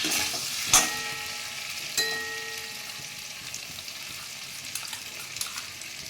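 Spices and salt frying in a wok for a vegetarian shukto, a steady low sizzle with a few sharp scrapes of stirring near the start and scattered faint clinks, no voices.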